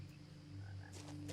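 Frogs croak in the video game What Remains of Edith Finch: a low, steady croaking drone with a couple of brief higher chirps near the end, fairly quiet and without any voices.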